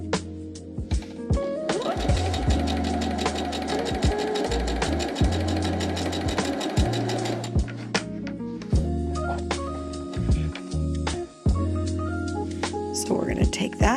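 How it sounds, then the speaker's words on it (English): Sewing machine stitching quilt block pieces B and H together, a loud close run of rapid steady needle hammering that stops and restarts in shorter bursts with clicks, and no voice. "we're going to sew together B and H"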